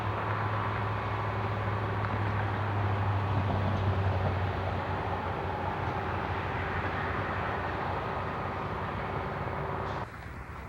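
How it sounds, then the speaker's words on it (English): A ballast regulator working along a railroad track, a loud steady machine drone with a low engine hum, continuous for most of the stretch before dropping slightly near the end. "come through with a ballast regulator to distribute the ballast evenly along the track"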